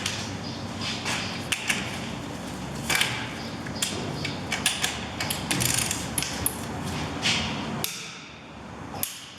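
Mechanical ratcheting and clicking from a wrench tightening the wheel bearing bolts on a Peugeot 308's front suspension, a string of sharp clicks and metallic knocks close by with no talk.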